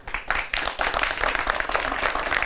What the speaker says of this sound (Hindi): ये ट्रिक अगर अच्छी लगी तो तालियों के साथ आपको उत्साह बढ़ाना चाहिए आपको